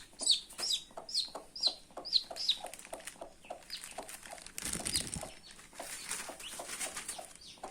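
A country hen clucks in a rapid, repeated series close by, caring for incubator-hatched chicks, with a brief burst of wing flapping midway and no one speaking.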